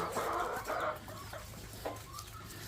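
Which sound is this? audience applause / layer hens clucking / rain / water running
layer hens clucking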